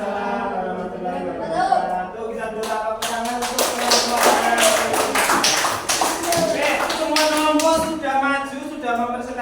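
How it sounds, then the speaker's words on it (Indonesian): A classroom of students applauds a presenting group, a steady patter of many hands clapping that swells and holds, with a voice talking over it. "Kita beri tepuk tangan untuk kelompok"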